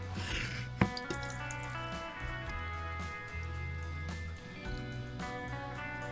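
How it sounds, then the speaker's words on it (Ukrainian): Salt brine pours from a container into a jar packed with tomatoes, a continuous trickling and splashing stream with a faint clunk near the start, heard alone without talk. "Сіль розчинилася і заливаємо тепер помідори."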